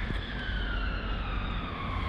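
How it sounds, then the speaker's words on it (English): Emergency vehicle sirens wailing across Sheffield city centre near the River Don, a steady gliding tone over heavy traffic and outdoor rumble, moderately distant and continuous. "Sorry, there's a lot of sirens today."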